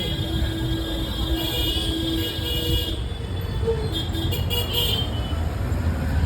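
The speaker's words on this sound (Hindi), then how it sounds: "ये सामने कितना ट्रैफिक होता है।" Busy road traffic in Ujjain near a temple, with a constant rumble of engines and repeated car horns honking nearby, some in short bursts.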